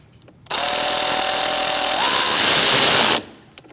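A power tool tightens a nut on a 2000-2006 Mini Cooper brake master cylinder, one loud continuous whirring burst of about three seconds whose pitch rises slightly near the end, then cuts off.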